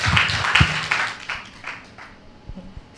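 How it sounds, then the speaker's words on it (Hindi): Clapping from a meditation training audience, loudest in the first second with bright broadband bursts, then thinning into scattered claps and fading toward the end. "तो थोड़ा जोरदार तालियों से"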